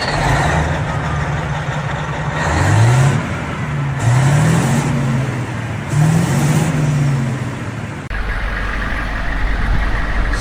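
The engine of a military surplus Humvee revs in several rising bursts over a steady idle, loud and close, with a shift in tone near the end.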